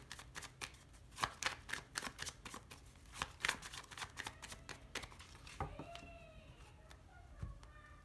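A deck of tarot cards being cut and handled, with a quick run of soft riffling snaps and flicks close up, fairly quiet, then a few slower card slaps.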